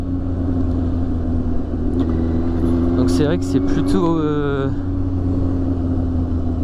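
A 2001 Yamaha FZS 600 converted to a cafe racer, riding on the road with a steady engine drone and low rumble throughout, while a rider talks over it.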